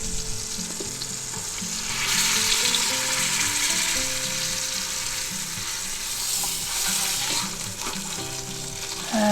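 A pot roast sears in a hot pot, giving a loud, steady sizzle and crackle throughout, with occasional stirring and scraping and no talk.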